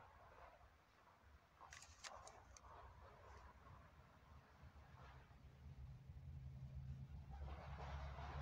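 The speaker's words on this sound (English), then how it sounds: "Somebody's driving by" Car driving past at night outside a tent, a distant engine rumble that grows gradually louder and nearer toward the end, with a few faint clicks early on.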